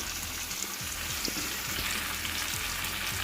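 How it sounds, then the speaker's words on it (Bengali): Ridge gourd and potato frying in mustard oil with a nigella-seed tempering, green chillies, salt and turmeric: a steady, dense sizzle with faint crackles, close and continuous, without talk. "সর্ষের তেলে কালো জিরে ফোড়ন দিয়ে ঝিঙে আর আলু আর কাঁচা লঙ্কা নুন হলুদ দিয়ে একটু ভেজে নিয়েছি"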